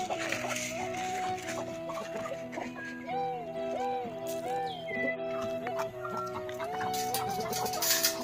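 Several village chickens being fed in the Andaman Islands cluck and chatter continuously up close, with overlapping, warbling calls throughout.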